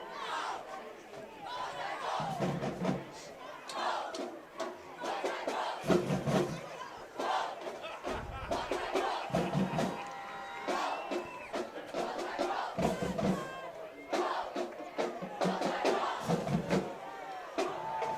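A Londonderry crowd at a high school varsity football game cheers and yells in the stands, a distant roaring wash of voices with shouted bursts rising and falling, heard faintly throughout.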